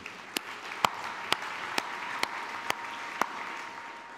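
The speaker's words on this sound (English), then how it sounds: "Maybe let's give a round of applause." An audience at a virtual reality gaming panel gives a round of applause, a faint, thin patter of scattered clapping in a room with a few sharper claps standing out at roughly even intervals.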